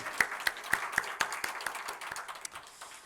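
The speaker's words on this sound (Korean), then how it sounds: "우리 하나님께 영광의 박수 올립시다." A church congregation claps together during a Sunday morning service, a short burst of rhythmic, evenly spaced claps at a moderate distance that gradually loosens and fades.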